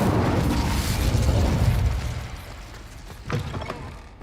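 A fiery explosion spell cast in a video game, with a loud rumbling burst that swells and slowly fades, followed by a sharper crackling pop near the end.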